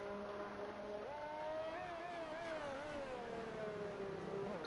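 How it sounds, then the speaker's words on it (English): Alpine race car engine from a racing video game, a fairly quiet steady whine whose pitch climbs and dips through gear changes, heard alone with no talk. "Sweet sounding engine that."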